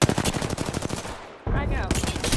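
Rapid automatic gunfire in the video game Apex Legends, a loud string of quick bursts that breaks off for a moment and then resumes.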